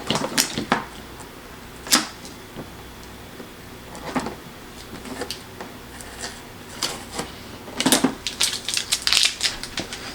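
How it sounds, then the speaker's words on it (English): Sticker peeled off a Hamilton Beach 46205 12-cup coffee maker: close, dry crinkling and crackling in irregular bursts with sharp snaps, louder clusters near the end, no talk. "Take the sticker off."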